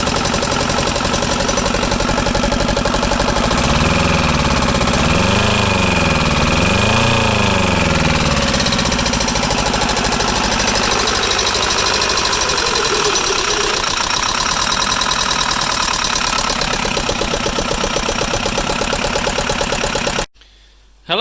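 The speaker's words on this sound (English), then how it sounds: "there's going to be a bit of a clip of how the engine sounded after the first minor rebuild we did." Arctic Cat 700 diesel quad engine after a minor rebuild, running continuously with a rough, knocking rod-knock clatter, loud and close, with rises and falls in revs partway through before cutting off abruptly near the end.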